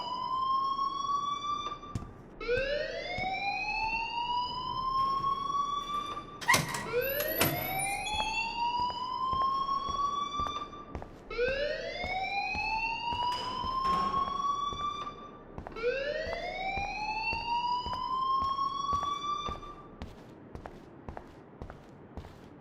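A school alarm in Life Is Strange wails in rising, whooping sweeps that repeat roughly every four to five seconds, loud and steady for over twenty seconds, with a faint thud partway through.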